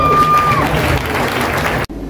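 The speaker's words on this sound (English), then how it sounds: "give them a big round of applause." Wedding reception guests at Status Hall in Newcastle applaud in a thick, steady wash of clapping with faint cheering, which cuts off abruptly near the end.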